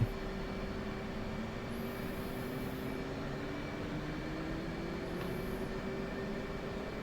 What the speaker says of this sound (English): I'll let that engine get started.